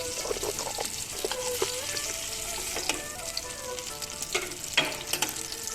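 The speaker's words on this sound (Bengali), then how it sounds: "তেল গরম আছে, তাতে আমি 2টো তেজপাতা দিয়ে দিলাম আর দিয়ে দিলাম শুকনো লঙ্কা।" Two bay leaves and dried red chillies crackle in hot oil over a low gas flame, a dense continuous sizzle with small pops and a few louder spits, heard close with no talking.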